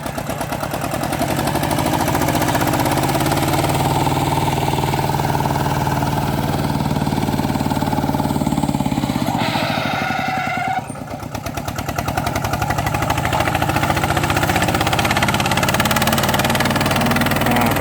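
A small walk-behind tractor engine chugs loud and close as it ploughs through a muddy rice field, a steady rapid knocking drone that briefly shifts pitch and dips before resuming at full strength.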